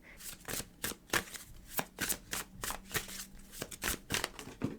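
Tarot cards shuffled by hand in quick repeated riffles, a crisp close flutter of bursts in an irregular rhythm, with a couple of cards flying loose.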